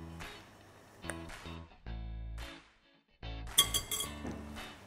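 Sugar and potato starch being mixed in a bowl, with light clinks and taps of a utensil against the dish in irregular bursts, quiet and close.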